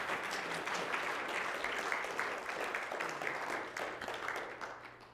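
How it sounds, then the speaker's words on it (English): Audience applause at a spiritual talk, a soft, steady patter of many hands clapping from a distance that gradually thins out toward the end. "You can give her a round of applause for that."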